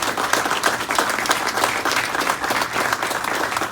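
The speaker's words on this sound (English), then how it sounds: "So one more round of applause." An audience at an award ceremony honoring a man who stopped an attempted robbery claps in a sustained round of applause, a dense, even patter with no break.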